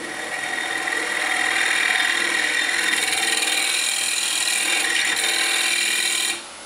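A hollowing tool on an articulated arm cuts into spinning wood on a lathe, giving a steady, loud scraping rasp that holds evenly for about six seconds before cutting off near the end.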